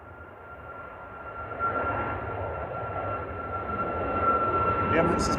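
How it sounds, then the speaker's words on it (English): Airbus A380 airliner at Manchester Airport, a steady distant engine roar with broadband rumble that swells slightly toward the end, heard alone outdoors. "Well, that's the A380, you can see it behind."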